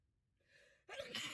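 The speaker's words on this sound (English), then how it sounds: "I just sneeze." A person gives a single sneeze: a short breathy intake, then a sudden loud burst at the end.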